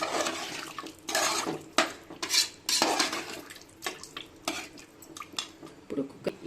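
A spoon clanks and scrapes inside a pressure cooker while country chicken is mixed with water, giving irregular close metallic knocks and stirring sounds at moderate loudness, with no talking.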